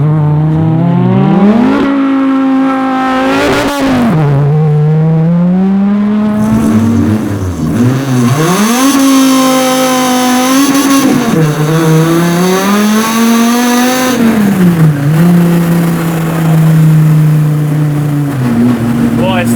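The 800-horsepower 9.0-liter V10 of a Ruffian Cars Plymouth hot rod roars loudly from inside the cabin, revving up and down through repeated gear pulls, with passengers talking over the engine.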